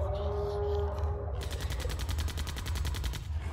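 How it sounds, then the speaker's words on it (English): Rapid gunfire bursts out upstairs in a sci-fi setting, a fast, steady rattle of repeated shots that starts partway through and continues loudly to the end over a low rumbling background. "she heard the unmistakable sound of gunfire coming from upstairs"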